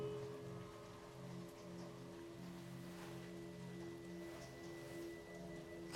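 Rain falls at night in a steady soft patter on surfaces, faint and continuous, with a low tonal hum running underneath throughout.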